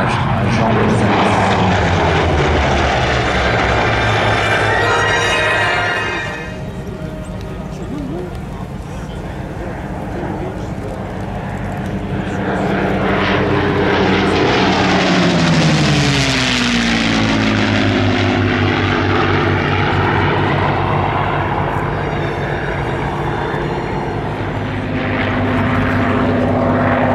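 Two F4 warbird aircraft fly past at an airshow, their propeller engines droning loud and steady, then swelling into a close pass with a sweeping pitch change and receding, as an announcer talks over the roar.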